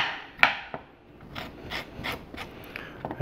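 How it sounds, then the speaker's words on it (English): Spoon scraping the seeds out of a halved cucumber for a pasta salad: a few close, short raspy scrapes with small pauses, the first the sharpest, heard alone without talk. "I use a spoon to scrape out the inside"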